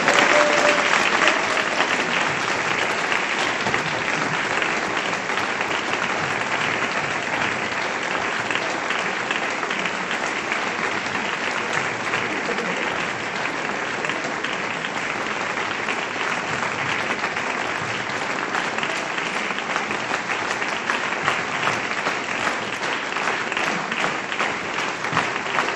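A theatre audience applauds after a dance performance, with dense, sustained clapping that holds at an even level for nearly half a minute.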